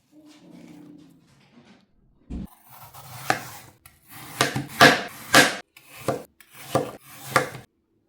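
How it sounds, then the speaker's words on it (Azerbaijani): Peeled, cored apples are diced into cubes: a run of sharp, fairly loud knife chops falls in an uneven rhythm after a brief soft rustle at the start. "Almanın da qabıqlarını soyub içini təmizləyirik və kub şəklində doğrayırıq."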